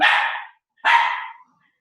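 A dog barks twice, loud and close, each bark sharp at onset and trailing off, with a short silence between and after.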